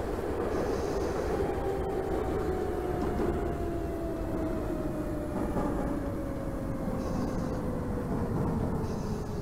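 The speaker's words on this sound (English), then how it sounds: "This is a Bronxbound number 4 train." A steady, loud rumble of an R62 subway train on a Bronxbound number 4 line in the OpenBVE train simulator game, with a slowly falling whine and continuous low roar throughout.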